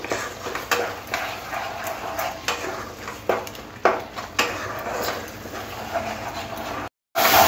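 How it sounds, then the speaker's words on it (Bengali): Prawn paste being fried and stirred with spices in a pan for a pointed gourd curry, a steady broadband sizzle with repeated soft scraping strokes of a spoon, close up, with a brief dropout near the end. "চিংড়ি বাটাটা মশলার সাথে ভালো করে কষে নিতে হবে।"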